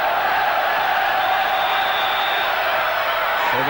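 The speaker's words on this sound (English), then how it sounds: "The crowd now really getting behind this team in yellow" A 1980s football crowd roars in a stadium, a dense, sustained wall of cheering and chanting that stays loud and unbroken throughout.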